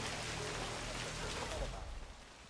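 Steady rain pours down in the Hitman video game, a dense broadband hiss that stays even throughout and fades slightly at the very end, with low rumbling underneath and a faint voice mixed in.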